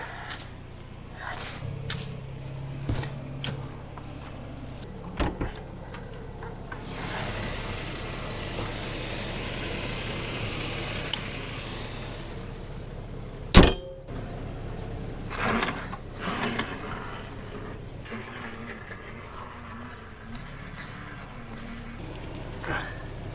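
A truck drives into deep, muddy ground: a low engine rumble under steady broadband churning and splashing, with a stretch of loud hissing and one sharp thump midway.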